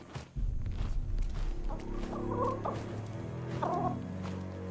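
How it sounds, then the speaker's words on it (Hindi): Cartoon rooster gobbling and clucking loudly in an animated scene, with rapid fowl calls over a music bed and busy background sounds, no speech. "मुर्गे को लेकर आओ।"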